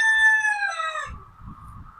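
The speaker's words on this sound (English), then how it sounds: "I can hear some commotion behind me. The Polish rooster and the hen are out." A Polish rooster gives a loud, close crow with a drawn-out falling tail, then a hen clucks softly in short rhythmic bursts on a homestead in early spring snowmelt.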